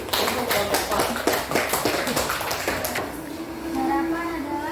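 Classroom applause for a student group, a burst of many clapping hands over the first three seconds that then fades into room noise and murmured voices.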